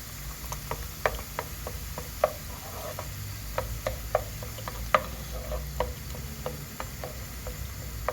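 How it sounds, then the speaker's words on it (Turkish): Onion and tomato paste sautéing in a pan for bean stew, heard as a faint sizzle under repeated sharp spoon taps and scrapes against the pan, close and intermittent. "salçamızın kokusu çıkana kadar e, kavuruyoruz sonra fasulyemizi ekleyeceğiz"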